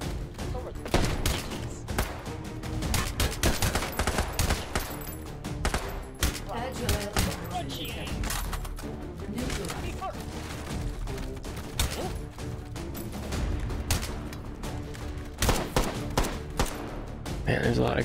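Dense, rapid gunfire from a gun in the VR shooter H3VR, with bursts of automatic fire and single shots cracking continuously and loudly throughout, plus occasional mechanical clanks.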